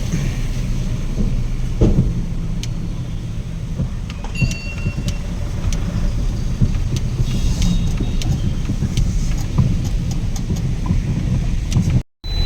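A loaded goods truck drives off on a local haul from Kottayam, its engine a continuous low rumble close by, with scattered rattles and clicks over the top and a brief dropout near the end.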